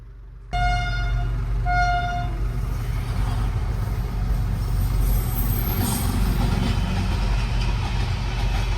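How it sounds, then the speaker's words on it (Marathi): A loud, steady rumble of a heavy train rolling slowly by close, with two short horn blasts near the start and continuous grinding throughout. "रेल्वे रेल्वे आज लयच हळू चालली आहे"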